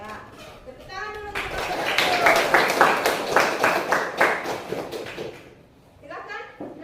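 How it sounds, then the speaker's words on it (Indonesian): A classroom full of children claps in a burst of rhythmic, fairly close applause lasting a few seconds, with children's voices before and after it. "Tepuk tangan dulu."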